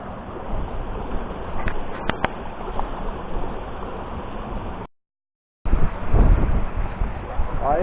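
Strong wind of about 20-25 knots roars steadily across a sailing boat crossing in waves near Oléron, with broadband rushing noise, a brief dropout, then louder gusting and water splash.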